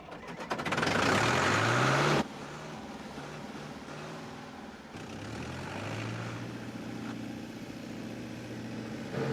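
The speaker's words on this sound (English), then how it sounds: "this is a tractor, not a Formula One racer" A farm tractor engine runs steadily close by, loud at first with a strong low drone and harmonic whine, then settling to a lower, rougher chugging that rises again as it pulls away; no talk.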